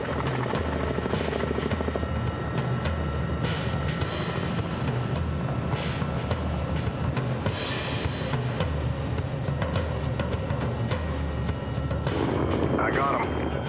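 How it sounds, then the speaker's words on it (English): A military attack helicopter gunship flies with a loud, steady rotor thump and engine roar, a continuous heavy drone that stays close and dominant throughout. "They're sleek little gunships that are very maneuverable and have a wide range of weaponry"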